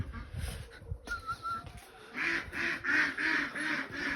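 Ducks quack in a steady run of repeated calls, fairly close, after some earlier clattering and background noise.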